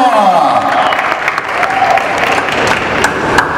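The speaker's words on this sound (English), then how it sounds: "Give a round of applause for Abdul Albayo." A crowd at a boxing event applauds loudly and continuously with some cheering, a dense wash of clapping close at hand while a voice carries over it briefly at the start.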